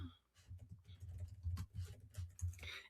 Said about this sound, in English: You could type in payroll mapping